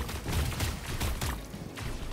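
Faint rapid gunfire bursts crackle under a hum of background noise, sounding like a distant fusillade in the mech game Super Mecha Champions, Team Deathmatch mode.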